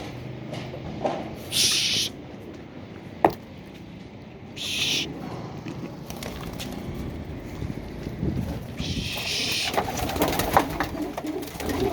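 Domestic tumbler pigeons returning to the loft coo in low repeated calls close by, with brief wing-flapping bursts and a sharp knock amid light outdoor background noise.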